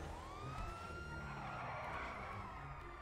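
Police car siren in GTA 5 wailing steadily and loudly, its pitch sweeping upward, close by with engine and road noise beneath it.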